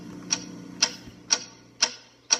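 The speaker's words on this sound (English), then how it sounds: "What is that mysterious ticking noise?" A mysterious ticking noise in a Potter Puppet Pals video: sharp, clock-like ticks repeat five times at a steady half-second rhythm over a low background hum.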